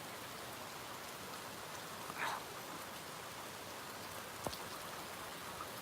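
Steady rain falls on a wet boardwalk as an even, soft wash of drops, with a couple of faint brief knocks in the background and no voices.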